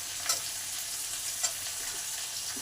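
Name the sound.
potato added to frying pan, sizzling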